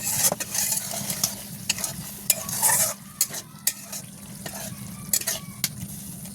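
Curry being sautéed and stirred in a pan, a chili-based Bengali dish; steady low frying hiss broken by sharp, irregular spatula scrapes and clinks against the pan, close and without voices.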